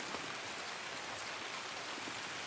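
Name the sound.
rain in video game Escape from Tarkov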